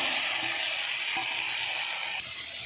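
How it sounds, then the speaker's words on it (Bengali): Potatoes and soya chunks sautéing with spices in a pan, a steady bright sizzle with a few soft stirring knocks, close and continuous, no talk. "আমি আলু আর সয়াবিন বড়িটা ভালো করে কষিয়ে নেবো"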